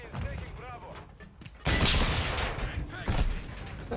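Rocket launcher fire in a video game: a loud, sudden broadband blast at the midpoint and another burst near the end, over busy gunfire-like game noise with a voice talking early on.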